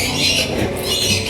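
Small birds squawk and chatter in a dense, continuous overlapping chorus at an exotic pet park, loud and close, with no talking.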